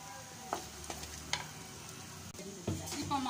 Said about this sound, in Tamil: இந்த மசாலாலாம் நல்லா எண்ணெயில் வந்து நல்லா ஃப்ரை ஆகணும்